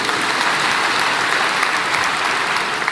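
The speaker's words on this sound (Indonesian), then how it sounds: "Berikan tepuk tangan kita untuk dia" A church congregation applauds during a sermon, a dense, steady wash of many clapping hands filling the whole stretch at even loudness.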